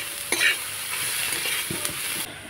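Mixed vegetables seasoned with salt and turmeric fry in a pan for patty filling, a loud continuous sizzle with scraping stirring strokes and a brief louder burst near the start.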